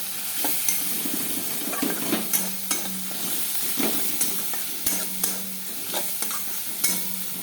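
Spices with turmeric and black pepper powder being stirred in a frying pan, a steady sizzle with repeated scraping strokes of the spoon at an uneven rhythm, close and moderately loud, no talking.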